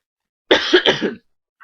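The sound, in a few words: cough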